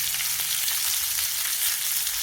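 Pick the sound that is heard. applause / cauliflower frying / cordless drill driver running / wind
cauliflower frying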